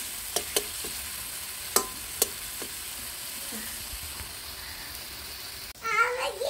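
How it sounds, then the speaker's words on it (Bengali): Spice paste for fish curry sizzles in a pan, a soft continuous fry punctuated by a few sharp scrapes and taps of stirring; a voice chimes in at the end. "এই মশলাটা ভালো করে কষা হোক"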